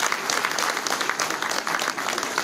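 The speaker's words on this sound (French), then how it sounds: "Alors je les remercie, on peut les applaudir" An audience at a mayor's New Year address in Villabé gives steady, lively applause, many hands clapping together in a full, even burst.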